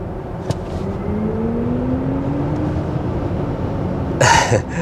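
A faint synthetic driving sound from a BMW iX electric car rises slowly in pitch over steady road and cabin noise, with a brief cough and a short burst of hiss near the end.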